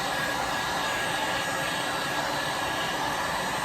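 A heat gun blows steadily on a Kydex holster being reshaped for a Sig Sauer pistol, a constant close, loud whooshing roar with a thin high whine, unbroken and without talk.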